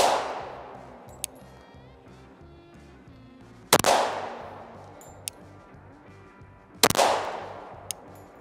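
Three sharp, loud pistol shots at an outdoor range, fired at 15 yards while sighting in a red dot, spaced about three seconds apart, each with a ringing decay, plus faint distant pops between them.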